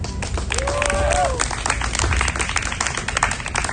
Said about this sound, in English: Everybody clap it up for Wallace again.